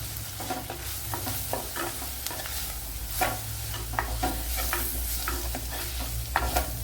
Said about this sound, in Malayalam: ഇനി നല്ലപോലെ ഒന്ന് മൂപ്പിച്ചെടുക്കണം